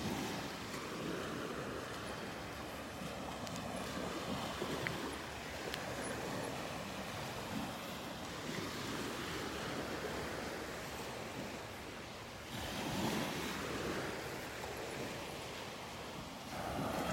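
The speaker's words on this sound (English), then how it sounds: "Love the sound of those waves here in the morning." Small morning waves wash onto a beach in North Naples, Florida, a steady, soft surf hiss with gentle swells rising and falling, mixed with light wind rumble against the microphone and no voices.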